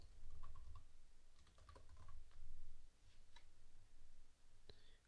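Computer keyboard typing while entering a plugin name in WordPress: a quiet run of soft key taps in short bursts over low background hum, with a faint click near the end.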